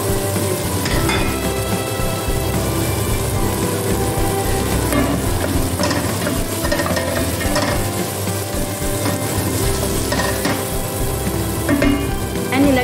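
Mixed vegetables with carrots stir-frying in a hot pan, a steady, loud sizzle with soft stirring scrapes running throughout, no talking.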